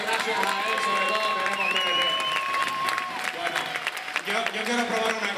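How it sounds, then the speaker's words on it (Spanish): A large event crowd applauds steadily, dense clapping with some cheering, while a loud voice and a long whistle-like tone carry over it at an opening-night gathering honouring the vice president of the Cabildo de Tenerife. "Por favor, un aplauso, gracias a él sobre todo."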